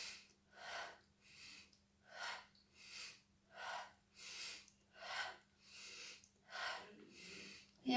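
A person breathing slowly and audibly during a guided breathing exercise, with about eleven steady, evenly spaced breaths in a regular rhythm, close and soft over a faint low hum.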